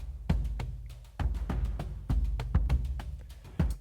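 Layered percussion for a creepy children's music cue, high, mid and low hits stacked together in irregular loud strikes, roughly a dozen sharp attacks with booming low tails over about four seconds.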